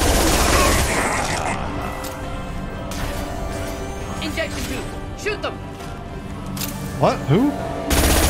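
Bursts of video game gunfire from Mass Effect 2, sharp crackling volleys mixed with impacts and sci-fi effects, loud and close, with people talking over the action.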